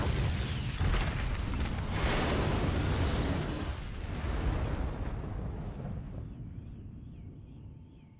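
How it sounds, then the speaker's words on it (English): Helicopter blown up in the action video game Stranglehold, a huge sustained explosion roar with rumbling debris that fills the clip, slowly fading toward the end. "Tequila barrages it down, and we get an epic explosion."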